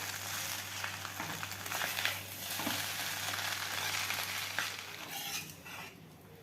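Egg noodles with soy sauce are stir-fried in a pan, a steady sizzle running throughout with scraping stirs and a few sharper clatters, no talking.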